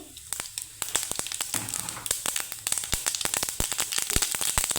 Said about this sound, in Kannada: ಆಯಿಲ್ ಬಿಸಿಯಾದ ನಂತರ ಒಂದು 1/4 ಟೀ ಸ್ಪೂನಷ್ಟು ಸಾಸಿವೆನ ಹಾಕ್ಕೊಳ್ತಾ ಇದ್ದೀನಿ